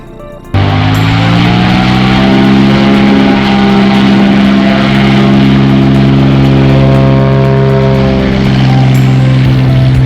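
A light aircraft engine runs up for a power check before takeoff, jumping abruptly from a quiet idle to a loud, sustained propeller drone that holds close and steady to the end.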